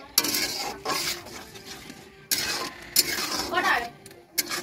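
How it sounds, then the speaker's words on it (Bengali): Duck masala is stirred in a pot with spice water added, giving loud scraping and clinking of a utensil against the metal in bursts with short pauses, over a low sizzle. "জলটা দিলাম যাতে মশলাটা ভালো করে কষাতে পারি"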